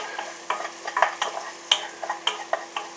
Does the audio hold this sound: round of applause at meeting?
no